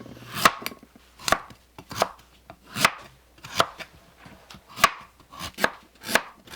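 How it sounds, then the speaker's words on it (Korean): A knife shaves the hard skin off a kabocha squash, each stroke a crisp scraping crunch, repeating at a steady, even rhythm up close. "씨 제거 후 칼로 단호박 껍질을 깎아주세요."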